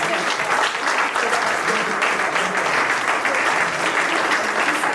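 Audience at a church conference giving loud, sustained applause with cheering, an even wall of clapping throughout.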